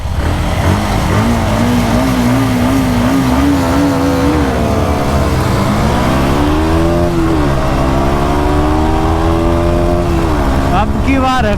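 Three 160cc motorcycles, a Hero Xtreme 160R 4V, a TVS Apache 160 4V and a Bajaj Pulsar 160 NS, accelerate in a drag race. Their engines wind up in loud, rising sweeps, with each gear change marking a step in the pitch.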